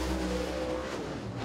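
A dirt track race car drifts high through turn four at Duck River during qualifying, its engine a steady, loud roar that holds for the whole moment.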